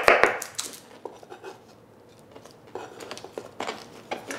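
Knife chopping cucumber into small cubes on a board, a quick burst of sharp close cuts at the start, then scattered lighter taps and clatter with quiet gaps between.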